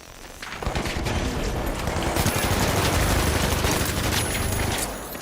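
Video game gunfire with shotguns in play: loud, dense bursts of rapid shots that build and stay heavy for several seconds before easing at the end.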